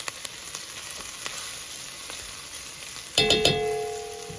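Onions, garlic and red pepper flakes sauté in a pan for pasta and bean soup, giving a steady close sizzle; near the end a few sharp metallic clinks ring out over the frying. No one speaks.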